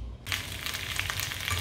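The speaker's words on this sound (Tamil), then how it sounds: "இப்போ நம்ம முதல்ல இந்த வெண்டைக்காயை நல்லா கொஞ்சம் வதக்கி எடுத்துக்குவோம்" Okra sizzling as it is sautéed in a hot pan, a soft steady crackle and hiss that starts abruptly and continues evenly, fairly quiet and with no talking.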